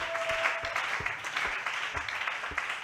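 A church congregation at a women's seminary evening session claps and applauds for Jesus, a dense continuous wash of hand claps with rhythmic accented beats, filling the room steadily.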